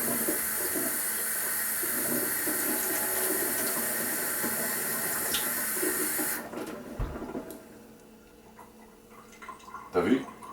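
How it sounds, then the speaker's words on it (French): Tap water runs steadily from a kitchen faucet onto the back of a spoon, a continuous hiss that cuts off partway through, leaving quiet room noise and a small clatter at the end. "Je vais ouvrir l'eau du robinet et ensuite, avec la convexité de la cuillère, je vais toucher au jet"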